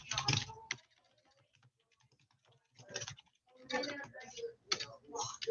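Typing on a computer keyboard, close and clear, in bursts of rapid clicking separated by quieter pauses with scattered single keystrokes.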